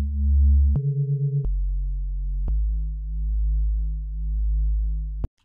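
Pure sine wave synth notes from Serum play alone as a short sequence of held tones, each stepping to a new pitch, clean and steady with no other sound.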